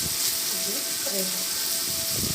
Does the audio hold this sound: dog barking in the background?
no